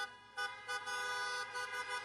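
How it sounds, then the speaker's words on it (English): Several car horns honk in overlapping bursts in place of crowd applause at a socially distanced event, some short toots and some longer blasts, heard from a moderate distance. "Honking replaced crowd applause to keep a COVID social distance."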